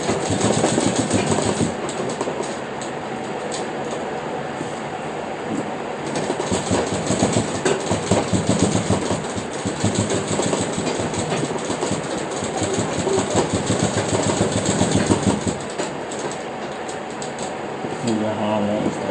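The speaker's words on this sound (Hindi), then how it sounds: "अब हमें इसके ऊपर की साइड में सिलाई लगानी है।" Sewing machine running continuously while stitching the back pocket of a pair of pants, a steady close mechanical rattle that carries on almost without a break, with a voice speaking over it.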